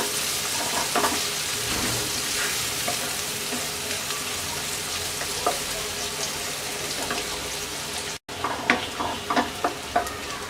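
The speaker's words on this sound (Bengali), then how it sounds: "পেঁয়াজটা হালকা ভেজে নেব।" Chopped onions fry in a pan for a Bengali egg curry with chickpea dal, giving a steady close sizzle and crackle that runs throughout, with a few sharper clinks and stirring knocks near the end.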